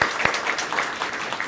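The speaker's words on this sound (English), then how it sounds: "Let's give him a round of applause." Brief applause from an audience at a student awards ceremony, a short burst of scattered clapping at moderate volume.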